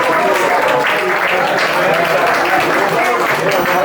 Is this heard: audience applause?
yes